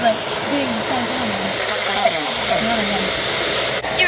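A vacuum cleaner runs on a flight of stairs with a steady, close whine and airy hiss that holds for several seconds, the pitch wavering slightly as the machine shifts.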